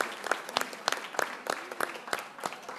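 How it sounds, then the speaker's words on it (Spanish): An audience at a panel discussion applauds with dense, steady clapping that stays moderately loud and even for the whole stretch. "un aplauso"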